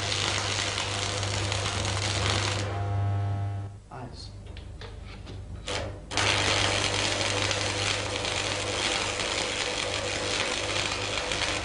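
A stick electrode arc-welds metal with a loud, steady crackling hiss over a low electrical hum. The arc drops out briefly in the middle, then resumes just as strongly.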